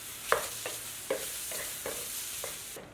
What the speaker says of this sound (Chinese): 这个时候再往砂锅里加一点点的油，继续再炒一炒， 加几片大蒜炒匀。